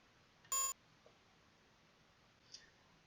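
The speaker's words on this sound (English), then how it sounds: "It seems to be emitting a high-pitched beep." In the Space Quest 2 video game, an alarm gives off one short, sharp, high-pitched electronic beep, followed by a couple of faint clicks in otherwise near silence.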